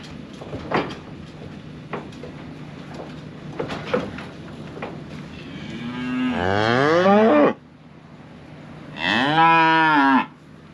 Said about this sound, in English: All the cows are back here where they belong.